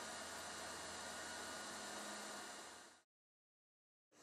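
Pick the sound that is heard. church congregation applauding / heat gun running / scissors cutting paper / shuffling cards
heat gun running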